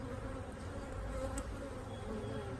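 Honey bees buzz around a single brood chamber hive being split in late June, a continuous, fairly faint drone with small swells in intensity.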